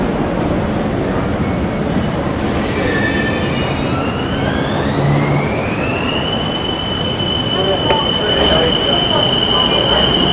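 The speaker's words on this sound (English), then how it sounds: "Yes, the train has arrived now." A Bangkok BTS Skytrain pulls into an elevated platform, its steady rumble joined by a rising electric motor whine that climbs and then holds as the train slows to a stop, loud and close throughout.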